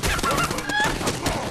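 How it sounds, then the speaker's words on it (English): Chickens attacking in the video game Fable 3 give loud, harsh squawks and honk-like clucks in quick bursts over a brief, noisy stretch. "Ah, chicken's attack."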